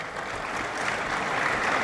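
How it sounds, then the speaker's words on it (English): Crowd at a Plateau State technology event applauds the governor, a continuous, moderately distant patter of many hands clapping at an even level throughout. "can we please give a round of applause"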